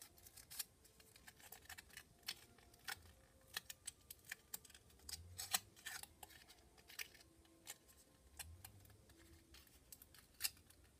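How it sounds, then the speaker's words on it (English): Scissors snipping through tinfoil, giving quiet, irregular crisp clicks and crinkles spread across the stretch, close by and faint, with no talking. "Now it's bad for scissors to cut tinfoil with"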